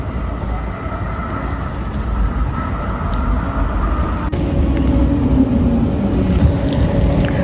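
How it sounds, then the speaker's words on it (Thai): A tram arriving at a stop in Oslo, Norway: a loud, steady rolling rumble with rail squeal and hum that grows louder partway through as it pulls in close. "รถรางมาแล้วค่ะ"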